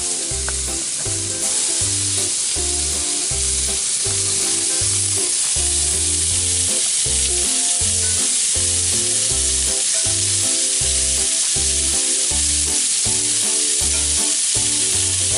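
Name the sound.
meat sizzling in a hot pan for lomo saltado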